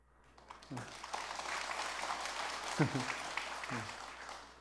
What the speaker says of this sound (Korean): 우리 조계사 법회 와서 반갑습니다만 하면 박수 쳐요